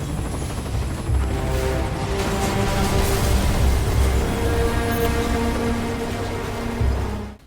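Helicopter rotor drone from a Metal Gear Solid V game scene, a steady loud whirring hum with layered tonal engine lines running almost unbroken for several seconds before cutting off sharply at the end.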